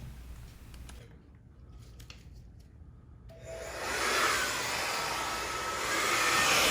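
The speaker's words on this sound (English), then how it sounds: "Now I'll use the blow dryer to blow out the design" A blow dryer pushes poured acrylic paint across a Dutch pour painting, its steady broadband whoosh starting partway through and holding loud and close after a quieter, near-silent opening.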